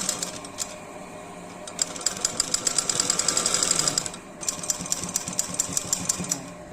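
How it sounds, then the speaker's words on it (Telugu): Sewing machine stitching the side seam of a designer blouse, a steady rapid needle clatter that runs continuously, pauses briefly, then resumes in short bursts, close and moderately loud with no talk. "సైడ్ స్టిచ్ వేసుకుంటాం కదా,"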